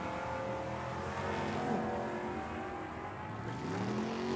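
A Chevrolet Camaro drag racing at Tucson Dragway, its engine a loud, steady roar with harmonic layers across the whole run and no voices heard.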